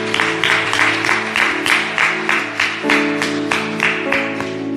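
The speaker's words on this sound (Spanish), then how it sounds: "Vamos a dar un aplauso al Señor." A church congregation at a worship service claps in steady rhythmic unison, loud and close, over sustained music.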